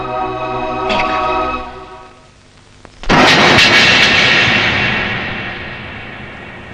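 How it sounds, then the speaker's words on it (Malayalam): After a low humming drone, a jet's roar bursts in loudly and then slowly fades as the airplane passes overhead. "ലേഹയുടെ ഫ്ലൈറ്റ് ഇപ്പൊ പോയി കാണും"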